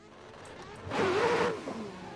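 A Nissan S15 drift car engine revs in a racing sim at the Misano circuit. A single brief, rising rev swells up and falls away over a low background.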